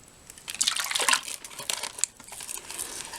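Water and maize poured out of a ration sachet, heard as crinkling plastic with liquid splashing and dripping, in close, irregular bursts with no talk.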